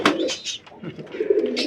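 Pigeons coo in summer heat, giving a few soft, close, throaty calls in quick succession mixed with faint chirps.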